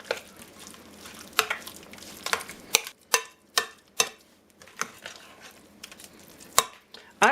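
Spinach pie filling is worked with a spoon in a bowl, giving repeated scraping swishes punctuated by sharp clinks of spoon against the dish at an uneven rhythm, close and moderately loud.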